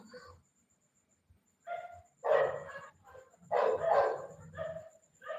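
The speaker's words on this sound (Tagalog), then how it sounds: "Maingay yung mga aso." Dogs bark in several loud bursts at a home during heavy rain, with short yips and whines between barks and a quiet gap near the start.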